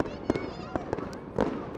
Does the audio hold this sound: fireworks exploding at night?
yes